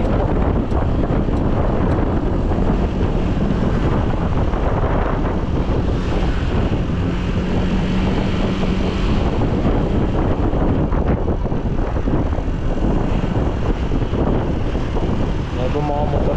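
Strong wind buffets the microphone in a constant, loud roar that lasts throughout, with faint background sounds beneath it.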